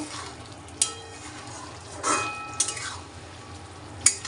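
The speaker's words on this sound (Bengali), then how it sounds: "দেখো এখন আর একবার একটু নেড়ে দেবো" Whole pointed gourd cooked with poppy seed in a pan is stirred, giving soft scraping strokes over a low sizzle, with a few sharp utensil clinks against the pan. No one speaks.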